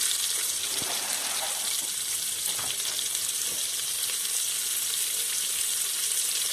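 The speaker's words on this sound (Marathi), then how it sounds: "कांदा चांगला लाल होईपर्यंत भाजून घ्यायचा" Onion fries in a pan with ghee for masala rice, giving a continuous hissing sizzle with soft stirring scrapes and occasional pops close by.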